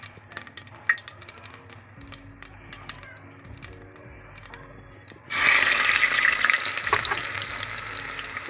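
Two finely chopped onions hit hot oil in a pan for spinach paneer, bursting into a loud, steady sizzle that jumps up suddenly and holds close, after a few seconds of quieter kitchen clatter.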